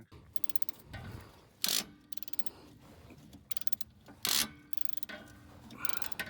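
Mechanical ratcheting and clicking while a rear sway bar is unbolted during a rear shock upgrade on a vehicle, with steady bursts of ratchet clicks and two louder metallic clanks, heard close with no talking.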